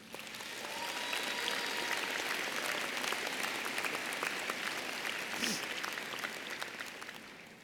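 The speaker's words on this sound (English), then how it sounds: "so let's give them a round of applause." A commencement audience at a university honors college ceremony breaks into sustained applause, a dense, steady wash of many hands clapping at a distance that swells and holds evenly throughout.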